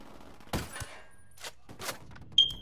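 Gunshots in Ghost Recon Wildlands ring out as a few sharp, separate cracks spaced across a quiet moment, fairly close and loud against near silence.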